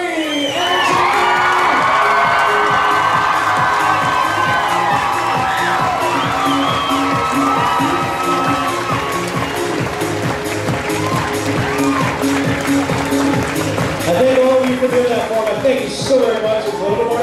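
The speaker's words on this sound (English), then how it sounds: "give them the biggest, loudest round of applause in the world" Audience at a hypnotist's stage show during a charity bike-a-thon event cheers, whoops and shouts loudly and steadily for performers taking a bow, with children's shrill voices and a dense crowd roar throughout.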